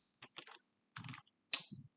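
Keys clatter on a computer keyboard while typing a formula in Excel, a few quick bursts of close, crisp taps separated by short silences.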